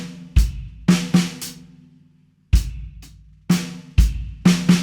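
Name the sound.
drum kit playing 7/4 groove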